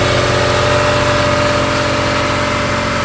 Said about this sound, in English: It's not too loud of a compressor